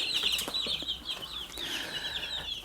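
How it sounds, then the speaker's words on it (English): Two-week-old broiler chickens on a Kenyan farm chirp and cluck in a steady, high-pitched chorus, with soft wing flutters mixed in nearby. "this is my first time rearing broilers"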